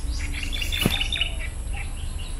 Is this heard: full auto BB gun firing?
no